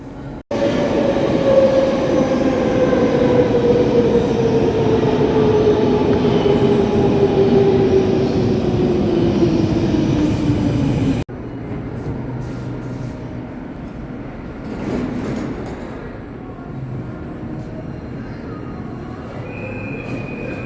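A metro train roars loudly through a Brussels metro station with a falling whine from its motor, then the rumble drops to a softer rolling hum.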